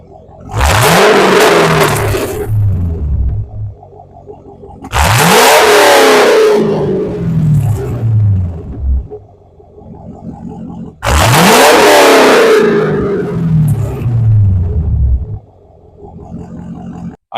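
A car engine is revved hard three times in succession, each burst roaring up sharply, then winding down with a falling tone before a short pause. It sounds loud and close, with no talk over it.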